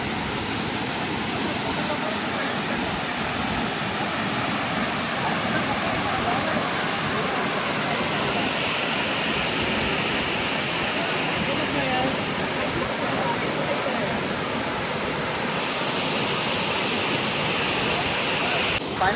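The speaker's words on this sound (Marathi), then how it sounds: "एवढा जोरात धबधबा वाहतोय" Savatkada waterfall in Rajapur roars with a strong, swollen flow after heavy rain, a loud, steady wash of broadband water noise that stays constant and close throughout with no gaps.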